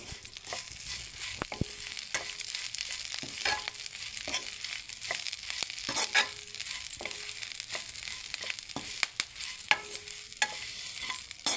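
Two kinds of leaves frying in hot oil in a pan, stirred with repeated scraping strokes over a constant close sizzle.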